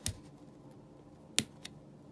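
Small nail scissors snip a hole in plush fabric for a Trapinch plush toy, giving three sharp, close clicks: one at the start, one after a pause and a fainter one shortly after, over a quiet background.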